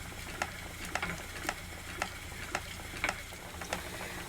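A spinning wheel turning steadily at close range, giving regular soft clicks about every half second over a constant whirring hiss.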